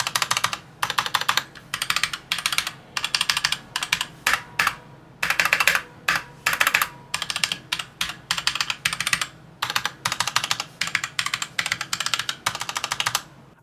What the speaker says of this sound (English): The keycaps do sound pretty good, with a much lower ping feedback as compared to the SK53.